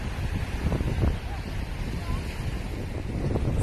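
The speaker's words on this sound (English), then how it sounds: "The wind is cold, a little chilly already. It's low tide and it's very wavy" Cold, strong wind at a beach at low tide with rough, wavy surf, a steady loud rush of wind buffeting the microphone over continuous wave noise.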